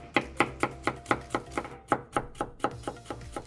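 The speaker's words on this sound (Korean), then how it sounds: "마늘 7알을 채 썰어주세요." A knife julienning garlic cloves on a cutting board for a Korean oyster side dish, with about fourteen crisp, evenly spaced chops in a quick steady rhythm, close and clear.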